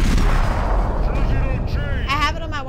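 Gunfire bursts in the video game Max Payne 3, loud and dense in the foreground, mixed with crashing impacts and game noise, with a voice partly under the shots.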